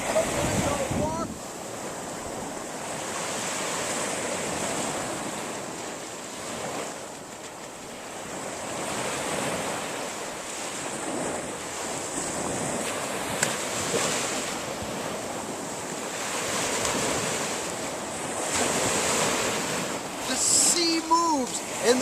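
Sea waves roll in at the shore, a loud, continuous wash of surf that swells and ebbs, with wind buffeting the microphone and no voices.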